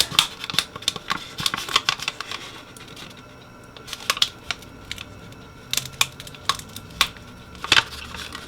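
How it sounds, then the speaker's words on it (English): Blade slicing the end of a cap can, heard as a rapid series of sharp, close clicks and snips in an irregular rhythm, loud and alone with no talking. "Now we're gonna go ahead and just slice the end of this here."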